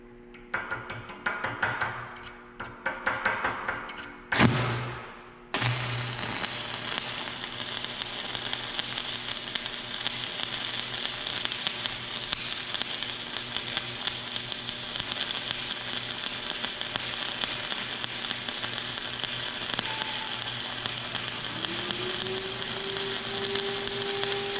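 A used 1/8-inch 7018 electrode stick-welds a flat fillet joint. A few short bursts and a sharp pop come first, then a loud, steady crackling arc hiss runs unbroken for about twenty seconds.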